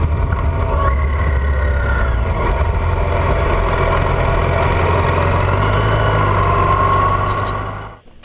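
A 2012 Yamaha FZ8 naked streetfighter motorcycle engine runs steadily for about eight seconds with a deep low rumble and constant loudness, then cuts off abruptly at the end.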